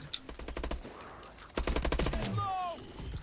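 Rapid automatic gunfire bursts from the HBR and other weapons in Call of Duty Advanced Warfare Exo Zombies on the Carrier map, loud and close, in two sustained volleys with brief electronic tones near the end.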